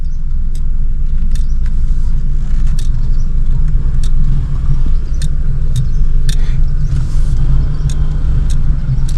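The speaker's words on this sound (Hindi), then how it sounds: "यहाँ पे देख सकते हो मैं फुल क्लच दबा रखा है, क्योंकि यहाँ पे है डाउन हिल और मैं 2nd गियर का यूज़ कर रहा हूँ यहाँ पे" A car rolls downhill in second gear with the clutch held down, giving a loud steady low rumble of road and engine noise inside the cabin, with faint intermittent ticks and clicks above it.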